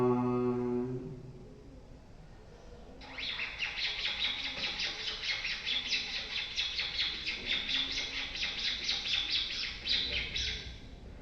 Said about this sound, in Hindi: पक्षियों की चहचहाट